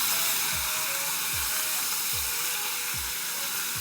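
A paste of onion, garlic and ginger fries in hot oil in a pan for a Bengali egg curry, giving a loud, steady sizzle broken by regular stirring scrapes about once every second.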